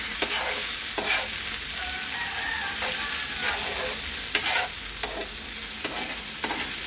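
Plantain pieces fry in a pan with a steady, bright sizzle, broken by occasional clinks and scrapes of stirring, close and alone.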